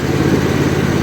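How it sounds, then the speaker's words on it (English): A small red farm tractor's engine labours steadily under load while trying to pick up material, a continuous close, loud mid-pitched drone with no voices. "a little red tractor's trying desperately to pick this up"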